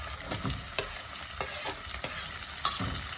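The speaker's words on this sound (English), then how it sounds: "I will add my tomatoes and the green pepper." Tomatoes and green pepper hit frying onions in a pan, a steady close sizzle broken by several sharp scraping stirs and clacks of a utensil against the pan, with no voices.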